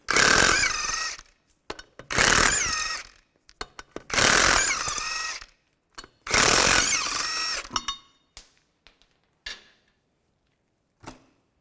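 Lug nuts come off a 2005-2010 Chevrolet Cobalt wheel with a 19mm socket on a power impact tool, four loud whirring-hammering bursts of about a second each, followed by small clinks and rattles.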